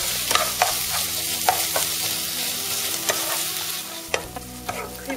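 Minced meat frying with onions in a pan gives off a loud, continuous sizzle, overlaid with frequent scraping clicks as it is stirred and turned.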